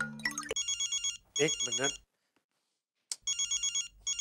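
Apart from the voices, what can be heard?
telephone ringing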